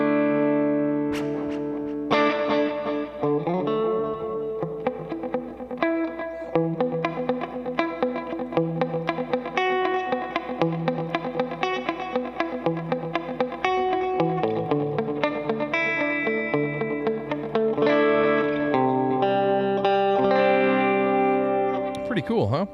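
Electric guitar through a NUX Mighty Plug MP2 modeling amp with mod delay and tap tempo, distorted notes echoing in repeating trails, quick tapped changes to the delay timing throughout.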